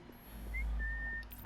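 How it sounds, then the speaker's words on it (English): A character whistles briefly in the video game Assassin's Creed Syndicate: a thin, faint pitched tone rising and then holding steady over a low hum of game ambience. "I didn't know you could whistle."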